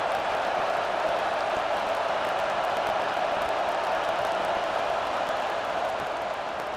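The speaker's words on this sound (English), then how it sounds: "This crowd knows when to bring it." Steady stadium crowd roar from a College Football 25 Rutgers versus Virginia Tech game, a dense continuous wash of cheering that holds at an even level throughout without breaks.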